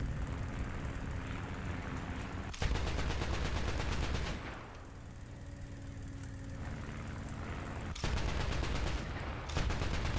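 Anti-aircraft guns fire in loud, sustained bursts in a War Thunder-style battle between self-propelled guns and biplanes, with breaks in between filled by the steady drone of aircraft engines.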